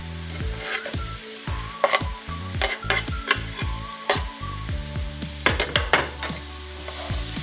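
Onions and ginger fry in a pan for a paneer masala, a close sizzle broken by repeated scraping stirs and clanks of a utensil against the pan, with no one talking.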